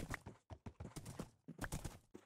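Rapid clip-clop of a big, fast horse galloping in a video game, with steady loud hoofbeats through most of the stretch and brief gaps between bursts.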